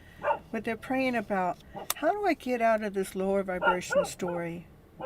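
A dog barks in short bursts, mixed under a woman's steady, continuous talk that dominates throughout.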